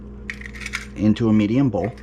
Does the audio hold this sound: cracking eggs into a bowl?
yes